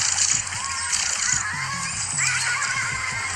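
Giant otters harassing and attacking a caiman, giving shrill, squealing, whinny-like calls over splashing and sloshing water, the cries rising and falling in repeated bursts.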